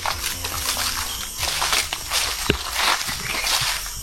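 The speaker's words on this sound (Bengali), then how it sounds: "এই যে হাঁটছি আর পাতার খসখস আওয়াজ," Footsteps crunch and rustle through dry fallen leaves on a forest floor in Chilapata at night, a steady walking rhythm close by, with a faint continuous chirp of crickets in the background.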